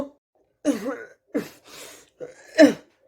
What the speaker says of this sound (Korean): 야, 너 기침하네